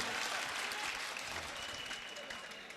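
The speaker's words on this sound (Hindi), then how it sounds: "तो एक बार जोरदार तालियां बजाकर मुझे बताइए" Dense, steady audience applause at a mushaira poetry recital, loud and continuous from start to finish, tapering slightly toward the end with no voices over it.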